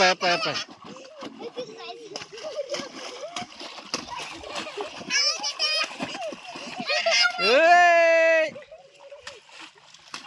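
Children splash and jump in a shallow mountain stream, with water slapping at close range. Excited talking and a long drawn-out shout ride over the splashing.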